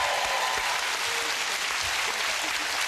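Loud, sustained applause from a game-show studio audience, dense clapping that fills the whole stretch without letting up.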